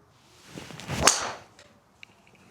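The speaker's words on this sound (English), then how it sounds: "That typical Callaway driver sound" A Callaway Quantum Mini driver is swung and strikes a golf ball outdoors: a rising whoosh builds into one sharp, crisp impact, then fades, followed later by a faint small click.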